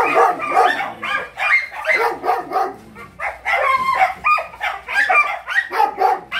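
Several Doberman dogs bark in a noisy kennel. Loud, overlapping barks and yelps come close and continuously, with brief gaps between bursts.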